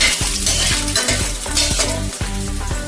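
Garlic dropped into hot oil in a pan for egg noodles, sizzling loudly and close with rhythmic stirring scrapes over a dense frying hiss, no voices.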